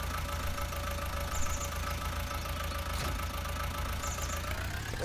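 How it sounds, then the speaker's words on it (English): Tractor engine idling in Farming Simulator 19 on an Irish farm, a constant even hum with faint high chirps in the background, unbroken and without speech. "We shall back our tractor into the trees and take off the cultivator."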